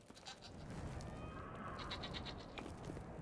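Farm animals such as goats or sheep bleating in the video game Brothers: A Tale of Two Sons, faint distant bleats over a soft ambient wash.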